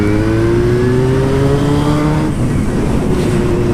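A vehicle engine running and revving, a loud close whine whose pitch climbs steadily, then drops into a rougher, lower running note.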